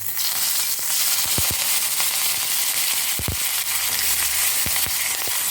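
Loud, dense sizzling and spitting of hot oil, broken by several sharp crackling pops as crushed curry leaves hit the pan, close up with no voices.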